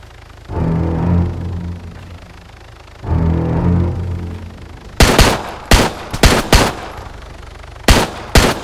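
Gunfire in the military shooter Arma 3, heard as two longer sustained bursts followed by a string of sharp, loud individual shots and short volleys with gaps between them, close and alone without talk.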